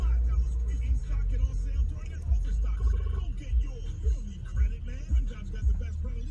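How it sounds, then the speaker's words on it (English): Steady road traffic rumble with vehicles moving close by, a continuous low engine drone punctuated by passing cars. "There's so much traffic."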